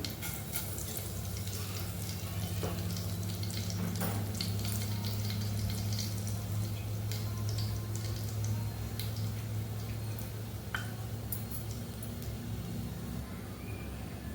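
Cumin and mustard seeds sizzle and crackle steadily in hot oil for a Telugu-style paneer kaju masala curry, a constant close fry hiss with scattered small pops throughout.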